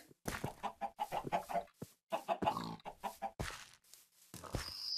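Chickens cluck repeatedly in the Minecraft game, with short bursts in an irregular rhythm that fill most of the stretch and a higher tone near the end.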